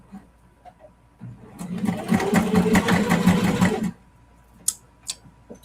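Sewing machine stitching a clear vinyl project bag in one short, close burst of steady whirring lasting a couple of seconds, with small clicks before and after.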